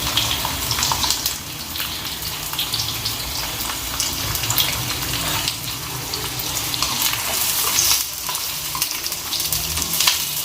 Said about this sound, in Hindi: अब हम प्याज शामिल कर देंगे।